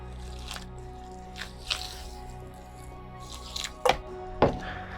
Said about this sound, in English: Then I just mix it up with my hand.